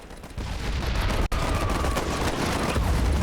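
Sustained automatic machine gun fire from a war video game rattles loudly in dense, continuous bursts amid battlefield din, with one brief gap, no speech.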